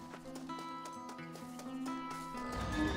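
Horse hooves clip-clop in the video game Red Dead Redemption on PlayStation 5, a steady rhythmic trot over a bed of game music, fairly close and moderately loud throughout.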